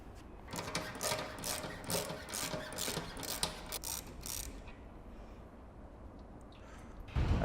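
A ratchet socket wrench clicks in a quick steady run while loosening a 13mm fuel tank bolt on a Janus 250 motorcycle, close and fairly loud, then the ratcheting stops and quieter handling noise follows.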